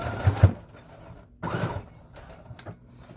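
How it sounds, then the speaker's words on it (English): A sewing machine stitches scrap fabric in short mechanical bursts, a couple of quick whirring runs separated by quiet pauses, close and fairly soft. "I'm going to sew it back on"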